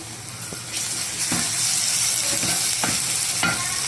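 Ginger and garlic, about a tablespoon, sizzle in hot oil for mutton liver curry, a constant close crackle with a few soft stirring knocks, no voices.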